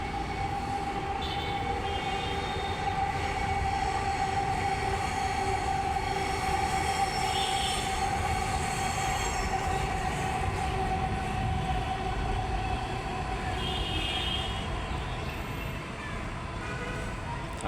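Dhaka metro rail train running on the elevated line overhead, a steady continuous rumble with a sustained tonal whine that holds at constant loudness throughout, in an outdoor setting near the High Court.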